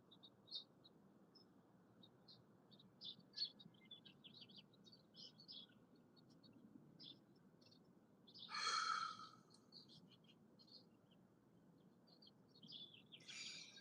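Small birds chirp and tweet in quick, scattered bursts over a quiet outdoor background, with one louder, fuller call partway through.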